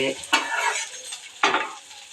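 Onion sizzles as it fries in a pan for a greens kootu, with two bursts of scraping stirs over a soft, crackling hiss, close and moderately loud, no voices.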